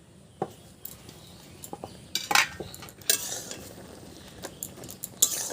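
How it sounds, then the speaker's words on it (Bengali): Cooking pot lid lifted off a pot of simmering taro leaves with onion and garlic, a few sharp metallic clinks and knocks scattered over a quiet kitchen background. "এবার আমি একটু ঢাকাটা খুলি।"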